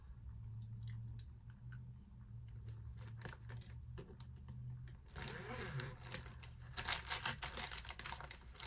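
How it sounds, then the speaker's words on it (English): A pencil being sharpened in a small handheld sharpener, giving a run of close, scratchy grinding and clicking strokes that grows louder toward the end over a steady low hum. "Using this little sharpener to like just sharpen my pencil."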